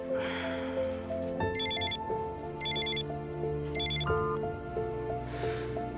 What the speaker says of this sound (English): Sergei, the phone.